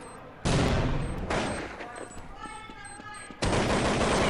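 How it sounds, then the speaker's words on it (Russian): Gunfire in a Counter-Strike esports match between Na`Vi and fnatic, with loud close bursts of rapid shots, a quieter stretch with a commentator talking, then another heavy burst. "Уверенно ставит хедшот к Зисту"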